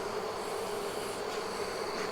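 Honey bees from a newly caught swarm drone steadily around a hive box, a continuous close, even buzz with no voices.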